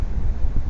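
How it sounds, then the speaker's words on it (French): Strong gusting wind during a quick fishing outing, a dull low-end roar buffeting the microphone in uneven surges, close and steady with no talk. "je vous dis, ça souffle quand même fort"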